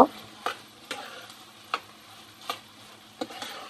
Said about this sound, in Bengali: সব কিছু দিয়ে আমি এখন নেড়ে চেড়ে নামিয়ে নিব।